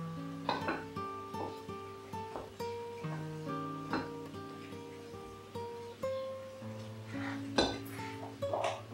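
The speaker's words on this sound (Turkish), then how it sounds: "Şöyle biraz karıştırayım." Metal utensil clinking and scraping against a pan while stirring parsley and tomato paste, a string of light rhythmic taps and clinks close by, with a low steady hum underneath.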